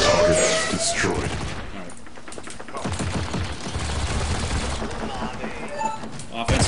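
Automated turret in a video game firing rapid bursts of gunfire during a chaotic 15v15 match, loud and dense throughout with overlapping shots and game effects.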